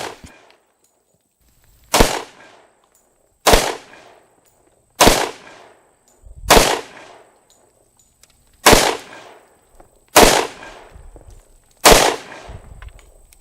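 A Colt Delta Elite 10mm pistol fired on an outdoor range with CCI and Winchester large pistol primer loads: seven loud, sharp shots spaced a second or two apart, each trailing off in a short echo.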